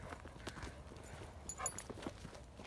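Hooves of a thirty-something-year-old horse clip-clop faintly at a walk outdoors during an evening walk, soft irregular thuds mixed with rustling and low background noise.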